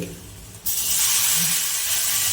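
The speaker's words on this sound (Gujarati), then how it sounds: "આપણે એમાં ચપટી હિંગ નાખીશું હળદર નાખીશું" Asafoetida and turmeric hit hot oil with a sudden loud, bright sizzle that jumps in and holds as a steady hiss, close by in a home kitchen during cooking of a Kathiyavadi sweet corn bhusu.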